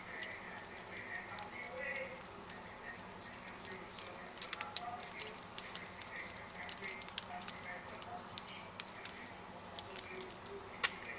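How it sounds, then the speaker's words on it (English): A freshly baked no-knead bread loaf cools on a rack while its crust crackles and "sings" in faint, sparse, irregular ticks and pops, with a person talking at times. "So this crackling is a good sign of the cooling process."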